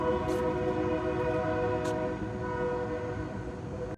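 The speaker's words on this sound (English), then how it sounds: "I still love the train that runs through the city." A train passing through Desert Hot Springs sounds its horn in a long, steady multi-tone blast over the rumble of the passing cars, loud and near, ending abruptly.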